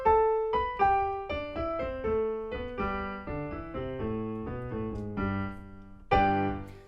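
Solo piano plays the bouncy ragtime opening of Scott Joplin's The Entertainer, a run of crisp descending and rising notes leading into fuller chords, close and clear with no talking.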